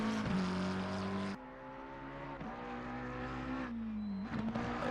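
A GT race car in Assetto Corsa Competizione strikes the wall mid-race. A steady, droning engine note cuts abruptly at the impact, then carries on lower and rougher with whirring tones and a brief tire squeal, close and alone.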